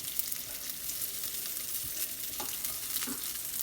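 Chunky onions sweat and brown in a pan, giving a steady, even sizzle of frying with a few soft crackles and pops, close by and with no talking.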